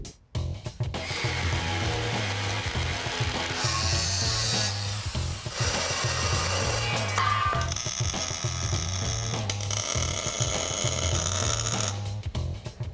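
Power tools whir and grind steadily while cutting and squaring up the chassis of a GMC Suburban, a loud, continuous mechanical drone with shifting tones and no talking.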